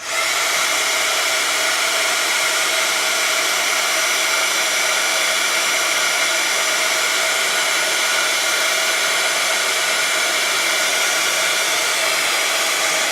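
A heat tool blows steadily over embossing powder on a craft medallion, one continuous loud, even whirring hiss with no breaks.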